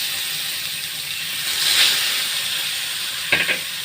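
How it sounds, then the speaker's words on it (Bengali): Bhola fish rubbed with salt and turmeric sizzles in hot oil in a pan, a steady close hiss with a brief louder crackle near the end. "এবার ভাজতে দেবো।"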